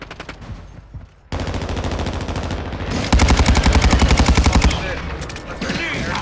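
Sustained automatic gunfire in Call of Duty, loud close rapid bursts firing almost continuously after a brief lull, with heavier rounds in the middle and distant shots trailing off.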